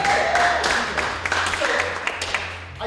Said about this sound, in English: Round of applause for mental health